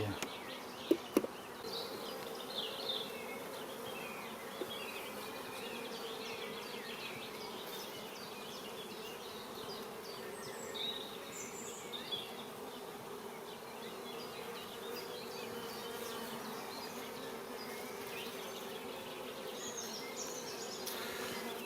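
Honeybees drone in a dense, continuous buzz around an opened beehive in an apiary, steady and fairly faint throughout, with a few brief knocks near the start and no talking.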